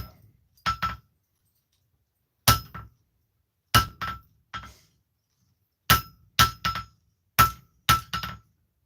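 A hammer strikes a railroad spike on an anvil while straightening and tweaking it during a forging challenge: sharp metallic clinks in quick groups of two or three, separated by short pauses, close and ringing.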